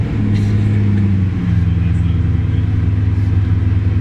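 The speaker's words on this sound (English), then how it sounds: "This is literally my favorite car to start up every single time." A supercar engine, a Koenigsegg Agera or Bugatti Chiron, rumbles loud and close with a deep, steady throb that settles into a lower idle partway through.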